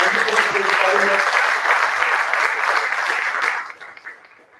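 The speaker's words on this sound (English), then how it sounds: "Another huge round of applause for this wonderful family." Audience applauding a family on stage at a school event, a dense burst of clapping that holds steady for about three and a half seconds and then quickly fades away, with a voice briefly audible at the start.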